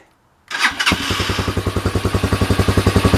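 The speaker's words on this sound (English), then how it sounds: "I'm gonna let it warm up, give it another start." A Taotao TBR7 Hawk enduro motorcycle with its catalytic converter removed fires up after a brief crank, then settles into a close, loud, rapid and evenly pulsing idle.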